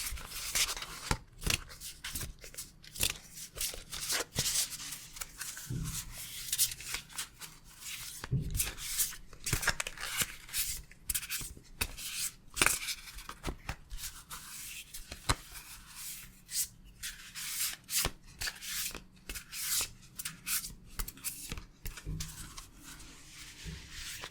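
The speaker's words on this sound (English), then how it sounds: "I'm so bad at shuffling cards." Oracle cards shuffled by hand in a quiet ASMR setting, a long run of close, crisp riffling and soft rubbing clicks in irregular bursts with no talking.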